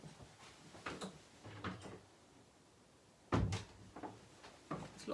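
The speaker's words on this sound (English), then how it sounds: "Just going to shut the door." An indoor door is shut in a quiet room. A few soft bumps and handling noises lead up to one sharper, louder thud partway through, followed by lighter knocks.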